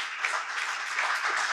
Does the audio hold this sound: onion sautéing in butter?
no